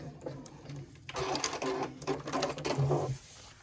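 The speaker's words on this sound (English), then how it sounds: "I'm just going to hold it, back stitch, and then keep going, and then back stitch again at the end." A sewing machine stitches a fabric pouch with a steady mechanical whir that pauses and restarts for back stitching, close up and fairly quiet, with no talking.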